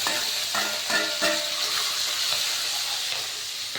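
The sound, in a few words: garlic and green chillies frying in oil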